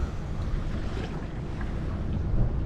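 Wind of about six knots rushes steadily over a sailing boat at sea, a close, broadband roar of wind buffeting the microphone mixed with the wash of water along the hull.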